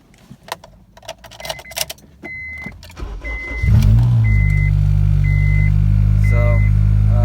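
An Acura RSX Type S engine with about 165,000 miles cranks and catches, then settles into a steady loud idle; keys jingle and small clicks come first.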